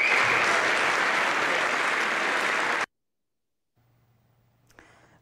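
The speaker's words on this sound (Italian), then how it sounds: "Questo è l'applauso finale, uno dei tanti applausi che hanno caratterizzato la serata." Dense, loud applause from a full crowd closes an evening concert, roaring steadily for about three seconds before cutting abruptly to near silence with a faint hum.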